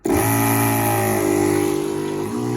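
Battery-powered water pump on a DIY off-grid portable sink starts abruptly and runs with a loud, steady, close buzzing whine for a couple of seconds.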